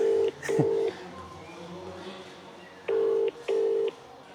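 A steady electronic ringback tone pulses twice, pauses through a long quiet gap, then sounds twice more, unanswered, with faint room noise between.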